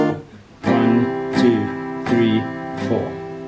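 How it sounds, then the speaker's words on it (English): Four evenly spaced down strums on a guitar for BTS's Pied Piper ring out about three-quarters of a second apart. Each chord is full, near and sustained, letting notes hang between the steady beats. "just do all down strums on the 1,"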